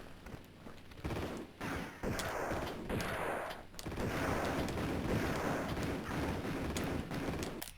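Repeated gunfire from Lara's shotgun in the video game Tomb Raider II, a dense barrage of loud, close blasts running almost without pause, with occasional short gaps between volleys.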